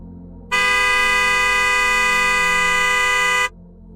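A single loud, sustained vehicle horn blast rings out for about three seconds, rich and steady, over a low background of traffic in Jaipur.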